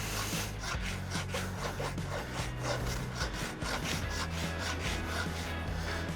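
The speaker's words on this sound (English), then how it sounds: "I tend to run my rasp right round, not because I'm trying to take the outside down" A farrier's rasp files a horse's hoof in repeated rhythmic strokes, a dry scraping rasp close by that sounds steady and unbroken from stroke to stroke.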